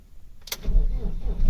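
A Mk2 Astra GTE convertible with a recently charged battery cranks briefly and fires up, its engine catching and settling into a loud, close idle that grows in strength.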